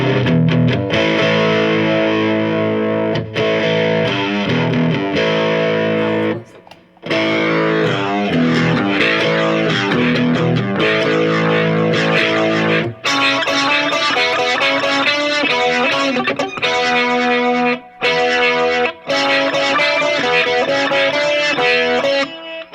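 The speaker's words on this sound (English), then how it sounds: "it also works with distortion quite well" A 1965 Wurlitzer Spectratone played through a distortion effect, loud sustained gritty chords and held notes with brief gaps between phrases and a swirling rotating character, no voices.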